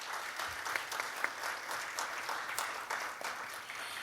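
An audience applauds a gayageum quartet after its performance with sustained, dense clapping that sounds somewhat distant and soft, steady throughout with no talking.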